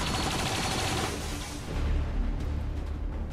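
Gunfire in the video game XCOM 2 bursts out as a dense, loud volley of overlapping shots, then thins into a few heavier booming reports toward the end.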